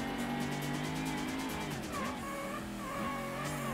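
Ford Mustang race car in the Ford Racing video game, engine note rising and falling with quick throttle blips and a brief tyre squeal, loud and continuous with no voices.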